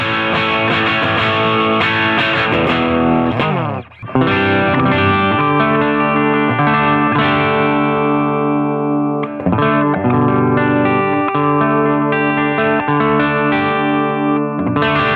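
Electric guitar chords ring out through a Strymon Iridium pedal's Vox-style Chime amp model with slight chorus shimmer, strummed continuously with one brief break partway through.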